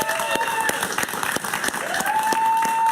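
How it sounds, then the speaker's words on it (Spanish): A television studio audience applauds a welcomed guest, steady full clapping throughout with a voice speaking over it. "Un aplauso para él, por favor."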